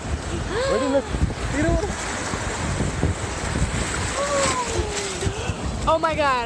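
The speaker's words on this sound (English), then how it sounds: "I just got smacked by a wave" Ocean waves at the beach rumble and wash in the background, with wind buffeting the microphone. Close voices talk and exclaim over the surf almost throughout.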